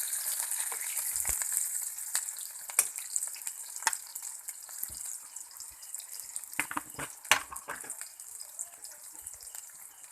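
Garlic, ginger and onion frying in mustard oil in a hot wok, a steady broadband sizzle with scattered crackles and occasional stirring clicks, moderately loud and with no talking.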